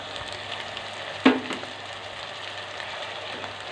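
Tomato paste frying in a pan with light golden-brown onion paste for urad dal mash: a steady, fairly quiet sizzle and hiss, with one sharp splat early on, and no talking.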